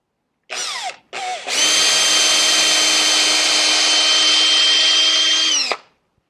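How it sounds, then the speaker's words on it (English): A power drill drilling into wood whirs in two short bursts, then runs steadily at high speed for several seconds before spinning down, close and loud. "Got to make sure the drill's tight, the chuck is nice and tight."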